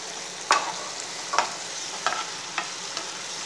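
Chapathi pieces stir-fry in a pan with chilli sauce, a low steady sizzle broken by about five sharp scrapes of a spatula against the pan at irregular intervals.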